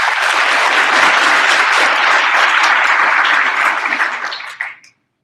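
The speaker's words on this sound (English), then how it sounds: "I'd like to give them a round of applause," A business meeting audience gives a full round of applause: dense, loud clapping that holds steady, then thins out and dies away near the end.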